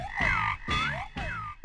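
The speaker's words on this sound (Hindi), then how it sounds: "हमने सालों कुएं में मेंढक की टर टर को सुना है" Three loud, rhythmic croaks from a frog in a well in quick succession, each a warbling, rising-and-falling call, close and clear with short gaps between.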